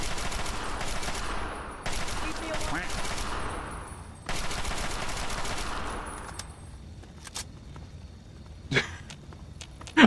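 Long rattling bursts of automatic gunfire in a Fallout video game, three sustained volleys that give way to scattered single shots and footsteps, with a voice speaking over it.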